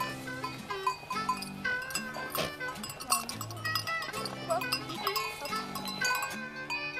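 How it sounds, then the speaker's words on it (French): Goats and ewes bleat at milking time on a farm, making several overlapping calls of varied pitch that come in short bursts. A faint clink sounds among them, and a voice can be heard softly in the background. "Les chèvres, les brebis, à la traite, c'est génial."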